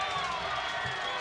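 Stadium crowd at a professional soccer match between Austin Bold FC and Reno 1868 FC, reacting loudly to a foul call and penalty, a steady broad roar of voices with shouts throughout, no clear speech.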